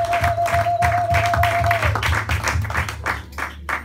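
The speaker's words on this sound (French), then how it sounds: "Acclamons tout pour le Seigneur." A church congregation claps in a steady rhythm along with music, the sharp, even claps repeating over a bass line and a held tone that fades partway through.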